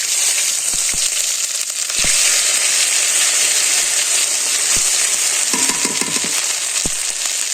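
Ginger hits a hot pan for vegetable khichuri and sets off a loud, continuous sizzling hiss, broken by a few sharp clicks and brief clatters from the cookware.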